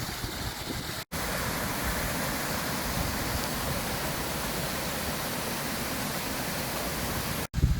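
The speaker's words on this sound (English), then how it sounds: "There's some more waterfalls, and you can see we're pretty far up the valley." Steady, loud rush of waterfalls in an upland valley, a dense continuous roar of falling water close by with no voices.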